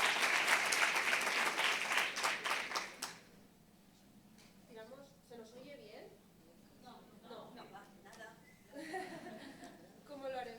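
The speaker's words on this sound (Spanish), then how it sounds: "Un aplauso para ellas" Audience applause at a panel forum on women and migration, dense clapping for about three seconds that fades into scattered chuckles and murmuring, with people talking softly afterward.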